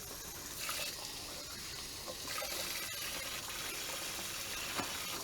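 Cool tap water runs steadily into a bag holding pieces of cleaned brown trout, a soft continuous gushing and filling sound heard close and fairly quiet, with no talking.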